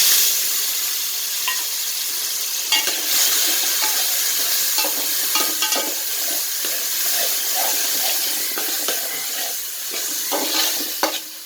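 Tomatoes sizzle steadily in hot oil as they are sautéed for a Kerala-style trevally fish head curry, with a constant frying hiss and scattered clicks and scrapes of stirring, close and loud, no talking.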